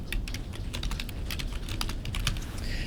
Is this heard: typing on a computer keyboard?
yes